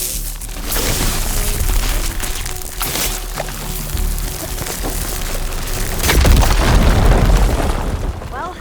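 Firegleam explosion in the video game Horizon Forbidden West, a loud rumbling boom with crackling bursts that surges again near the end, over a steady roaring game background.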